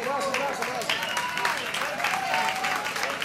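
Enthusiastic clapping from an audience at an anniversary concert, a brief lively burst of applause with a few voices and cheers mixed in.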